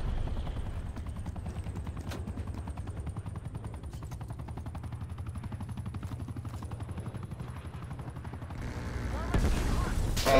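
Rapid bursts of automatic gunfire crackle continuously in an online shooter game, layered over a steady helicopter drone, with a louder crash near the end.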